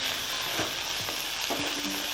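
Sliced onions, tomato and chopped green chili stir-fry in a pan for egg fried noodles, a continuous close sizzle broken by a few quick stirring scrapes, with no speech.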